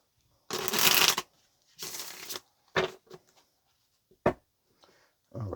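Tarot cards shuffled by hand in a few quick riffling bursts, the longest near the start, then shorter slaps and flicks of the deck with quiet gaps between, close and fairly loud.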